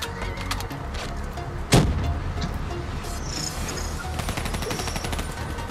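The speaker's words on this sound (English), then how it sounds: "I cause explosions everywhere." Gunfire and explosions in the Black Ops 3 campaign, with scattered rapid shots and one sharp, loud blast in the middle against a steady background of game ambience.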